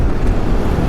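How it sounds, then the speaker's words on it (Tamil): Strong wind on the road to Leh, Ladakh, roars and buffets the microphone in a loud, continuous low rumble with no break. "காற்று பயங்கரமாக அடிக்குது, எந்த அளவுக்கு இருக்குன்னு தெரியல."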